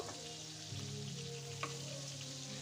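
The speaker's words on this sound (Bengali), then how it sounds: "এখন হচ্ছে আমি চিংড়ি মাছ হালকা ভেজে নিচ্ছি" Shrimp lightly frying in hot oil give a steady, soft sizzle that runs without pause, with one brief clink partway through and no voices.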